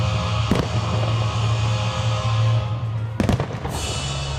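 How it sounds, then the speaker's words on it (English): Fireworks at a city Fourth of July show in Torrance, with a steady low rumble and crackle throughout and a couple of sharp bursts, one early and a stronger cluster near the end, heard from a distance. "In July, the city's 4th of July fireworks show returned."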